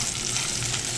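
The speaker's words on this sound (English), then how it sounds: "So you hear the sizzle. We want this to get a nice sear on it." Loud, close sizzling of brisket searing in a hot pan, a constant crackling hiss with no voices.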